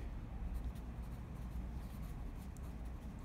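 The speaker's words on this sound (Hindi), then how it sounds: "यहाँ पे हम लिखेंगे" Quiet pen-on-paper writing of an accounting entry, a soft continuous scratching close by with no talking.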